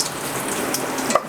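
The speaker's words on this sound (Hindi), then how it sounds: "ऑयल थोड़ा गर्म करने के बाद 10 से 15 अदद कड़ी पत्ते इसमें शामिल करेंगे।" Curry leaves sizzling in hot oil in a pan, a continuous dense crackling hiss with a small pop near the end, close and fairly loud.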